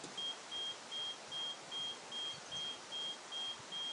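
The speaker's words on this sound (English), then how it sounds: "the beeping you're hearing right now, that's the starter beeper" The starter preheat beeper on a Takeuchi excavator sounds a regular series of short evenly spaced high beeps, about two per second, over a steady broadband background hiss.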